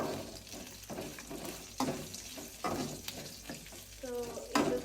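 Mutton frying in a pan for sambar, a steady close sizzle with stirring scrapes and clinks, and a brief voice near the end.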